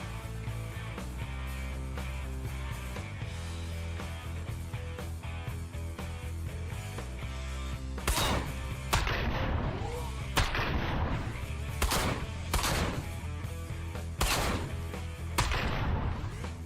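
Shotgun blasts in the video game Ride to Hell: Retribution, a series of sharp booming shots spaced a second or two apart over a steady pounding music bed, loud and close.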